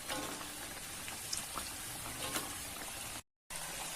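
Pastel pastry dough frying submerged in hot oil gives a steady, close crackling sizzle with scattered pops, broken by a brief dropout to silence near the end.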